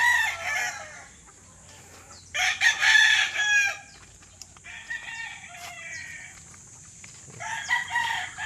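Roosters crow and chickens cluck inside a poultry coop housing Sanino white and gray gamefowl, several bursts of crowing overlapping, close and moderately loud over a low steady hum.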